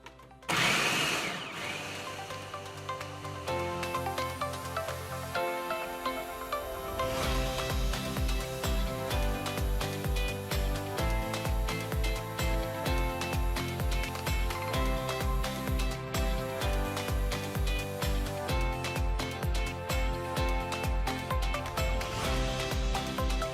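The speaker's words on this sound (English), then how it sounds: "Then you food process it." A food processor whirs loudly and steadily as it purees green peas for fritters, its motor running unbroken for about twenty seconds with a rhythmic chopping pulse and no voices over it.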